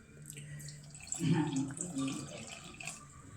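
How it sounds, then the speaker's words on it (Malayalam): Water trickles in small amounts into a bowl of flour batter with egg, mixed for egg pathiri. The pour is soft and close, swelling briefly mid-clip over a quiet kitchen background. "നമുക്കിതിനകത്ത് കുറേശ്ശെ വെള്ളം ഒഴിച്ചു കൊടുക്കാം"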